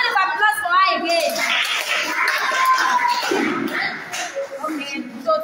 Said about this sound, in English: a lot of applause for her again